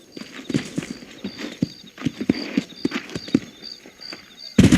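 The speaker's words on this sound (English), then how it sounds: "These are fine horses." Horse hooves clip-clop in the video game Red Dead Redemption, a series of irregular hoof strikes over a faint background, ending with a louder burst of hoofbeats.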